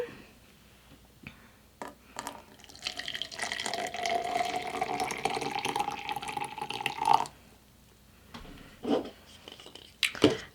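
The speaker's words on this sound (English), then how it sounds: "then we add our water to that fill line" Water runs steadily for several seconds as it is poured into a small matcha maker up to the fill line, followed by a few separate clinks and knocks.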